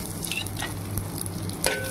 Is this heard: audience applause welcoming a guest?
no